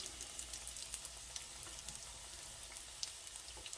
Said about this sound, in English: So I'm just going to let these fry.